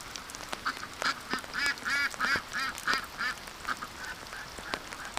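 Several ducks quack repeatedly in a yard on a rainy day, a run of rhythmic, fairly close calls with brief gaps, no talking.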